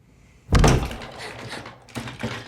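A heavy door bangs once in a horror film jump scare, a loud close thud with a resonant tail, followed by two softer knocks or rattles, with no talking.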